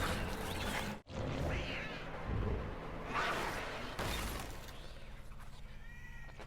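A cartoon cat in the animated series Arcane, shut in with a mouse, gives a few drawn-out meows over a busy soundtrack of effects and ambience.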